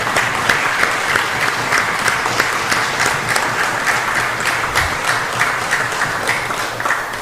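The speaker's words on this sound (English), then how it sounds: "a round of applause for the service of Mr." Sustained applause fills the chamber of the House of Representatives of the National Assembly of Belize, a dense, steady clapping from the members that holds at an even level throughout without pause.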